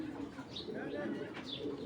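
Soft, low cooing from a female Giribaz pigeon, close by and repeated, with a few faint chirps over a constant background hum.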